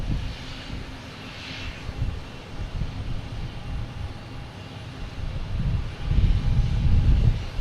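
Alaska Airlines jet airliner at Boston Logan Airport, a steady low engine rumble that swells louder toward the end as the plane draws closer, with no talk over it.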